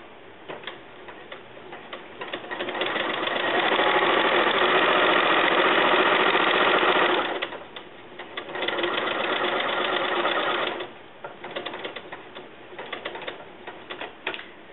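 A sewing machine stitching binding onto a quilt runs in a steady rapid whirring chatter for several seconds, pauses briefly, then runs again more softly before slowing, close up with no talk.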